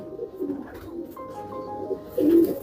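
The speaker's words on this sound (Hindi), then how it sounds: "अजहर भाई, ये भी कबूतर है?" Firozpuri pigeons coo close by in low, throaty calls, several overlapping murmurs with a louder coo near the end.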